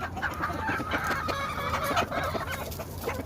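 Pea comb chickens in a brood pen, hens clucking and cackling steadily and close by, with a rooster crowing over the din of a busy flock, no voices.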